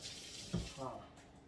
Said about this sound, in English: I'm washing my hands with warm water.